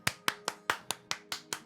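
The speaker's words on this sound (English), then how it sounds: "That's a round of applause for me." A steady round of applause, heard as about nine evenly spaced, crisp hand claps close to the mic with no talk over them.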